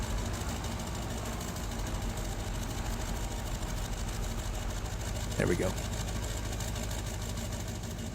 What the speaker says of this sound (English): I still like this tractor. This John Deere 4440.